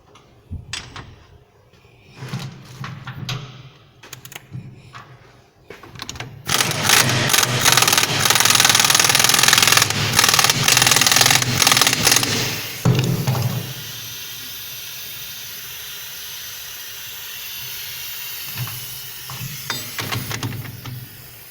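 A nut is tightened onto a rear wheel hub and bearing of a Ford Transit MK7, heard as a loud, sustained hissing mechanical whir for several seconds, with quieter clicks and handling noises before and after.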